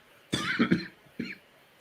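A few sharp, close coughs in quick succession, then one more after a short pause.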